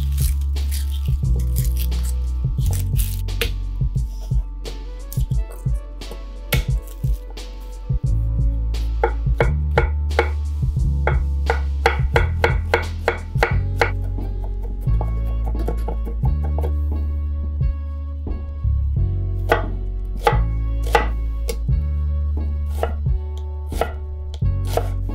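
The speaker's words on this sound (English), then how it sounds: "I'm gonna do 3 cloves of garlic minced and about a half a cup of onion minced" Garlic cloves and onion being minced with a knife on a cutting board for vodka sauce, a long run of rapid rhythmic chopping taps, loud and close, with short pauses between bursts.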